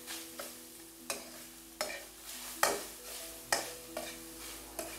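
Chopped onion frying in a hot kadhai, scraped and stirred by a spoon about every half second to a second, each stroke a sharp clack over a steady low sizzle, heard up close with no talk.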